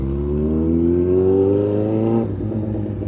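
A motorcycle's exhaust drones steadily and close while riding through traffic, its pitch climbing under throttle before easing off near the end.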